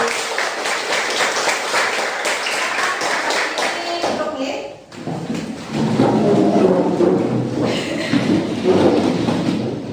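A classroom of students in an Indonesian school claps for class 8B: a busy, uneven burst of clapping and tapping, briefly dipping midway, then resuming with knocks and shuffling mixed with murmuring voices.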